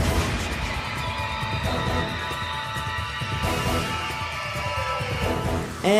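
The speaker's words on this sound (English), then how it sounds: "they use the battle music from Monster Hunter Frontier," Monster Hunter Frontier battle music as used in the video game Freedom Unite, a loud, busy orchestral piece with heavy percussive hits and sustained brass-like layers, playing continuously with no voices over it.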